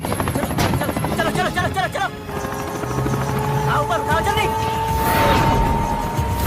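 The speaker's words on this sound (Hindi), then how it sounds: "ये रस्सी से उड़ते हुए हेलीकॉप्टर को खींचकर जमीन पे उतार देते हैं" A helicopter's steady rotor drone runs throughout, mixed with voices and busy background sound.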